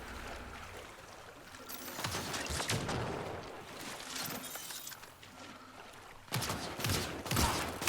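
Video-game gunfire during a firefight in Mass Effect: Andromeda, a busy mix of shots and shattering impacts with a louder burst near the end, moderately distant, no talking.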